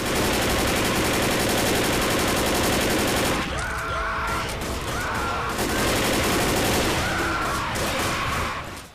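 Sustained loud gunfire in the zombie shooter Left 4 Dead on The Boathouse survival map of Death Toll, continuous automatic bursts with overlapping shots throughout, a brief dip partway and then renewed firing.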